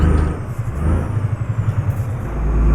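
An Italian V8 truck engine in Euro Truck Simulator 2 pulses with a steady low throb, then a throttle blip between gear shifts lifts the revs toward the end, loud and close.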